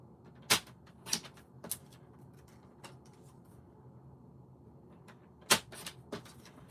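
Card paper being cut on a paper trimmer, a few sharp separate snaps and clacks spaced apart in a quiet room, with no talk.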